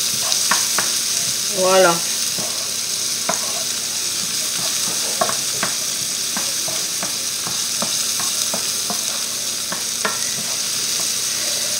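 Onions sautéing in a pan for a coconut curry chicken, a steady close sizzle punctuated by frequent sharp clicks of a utensil stirring, with a brief spoken word early on.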